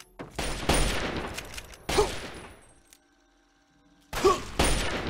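Loud bursts of gunfire in the video game Fallout 3 come in two long volleys, break for a brief lull, then resume with another heavy burst.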